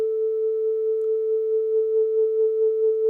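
Electric guitar run through a Carl Martin Axis Flanger pedal while its pre-delay is adjusted: one steady sustained note carrying a gentle, slow wobble throughout, clear and alone with no other sounds.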